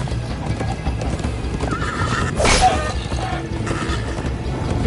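Horse in a Minecraft Story Mode game galloping with rapid rhythmic clip-clop hoofbeats, breaking into a loud neigh midway, close and clear with little talk.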